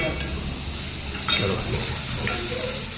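Ginger and garlic fry in a pan with a steady close sizzle, broken by a few scraping stirs, and faint voices in the background.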